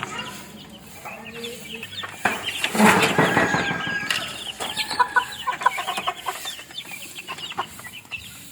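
Four young stag chickens about three to four months old cluck and squawk close by in a backyard, a busy burst of overlapping calls with some wing flapping, continuing in scattered clucks throughout, with faint background voices.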